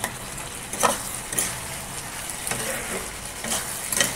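Masala spices sizzle and fry in hot oil for a soybean curry, a steady crackling hiss with a few clacks of stirring against the pan, close up and without talk.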